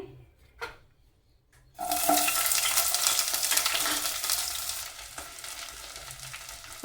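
Onions and green chillies for vegetable biryani drop into a hot pan after a near-silent pause. They burst into a loud, rushing sizzle that eases slightly over the following seconds.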